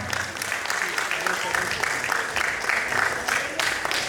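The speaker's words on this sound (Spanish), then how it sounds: "El aplauso para el señor Máximo Barraza Morán." An audience applauds a winner at a casting results announcement, sustained clapping with a voice talking over parts of it.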